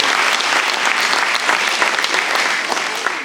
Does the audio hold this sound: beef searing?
no